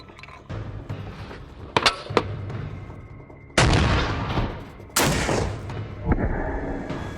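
Soviet World War 2 PTRD 14.5mm anti-tank rifle firing a B-32 armor-piercing round at steel plate outdoors: sharp loud blasts with a heavy boom, followed by clinks and a noisy decaying rumble.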